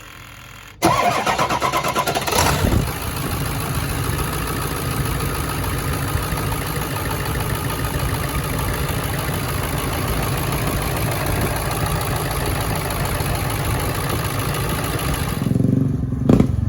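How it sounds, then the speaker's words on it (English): A Ford Excursion's 7.3 diesel engine, just fitted with an EBPV delete and up pipes, cranks briefly, fires up and settles into a loud, steady rumbling idle close by, cutting off near the end. "let Lee crank it over for just a minute since that turbo was dry from us taking it on"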